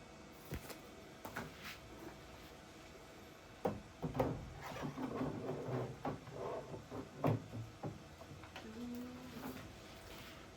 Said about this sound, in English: now we're going to open up our machine